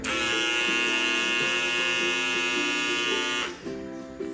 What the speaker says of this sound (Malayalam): ഇത് നമ്മൾ ബോഡി ഹെയർസ് ഒക്കെ ട്രിം ചെയ്യാനുള്ള കേട്ടോ